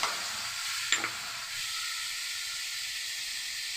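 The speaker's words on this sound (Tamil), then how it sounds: "தக்காளி நல்லா வதங்கட்டும்." Medium-sized chopped tomatoes sauté with mustard seeds in coconut oil in a pan, giving a steady, close, even sizzle and hiss with a brief pop near the start.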